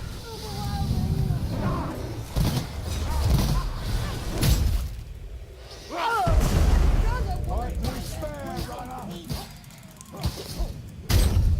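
Bomb blasts and impact crashes from Warhammer: Vermintide 2, a cooperative fantasy combat game, sound as loud booms and shattering thuds amid busy melee noise, with someone talking over much of it.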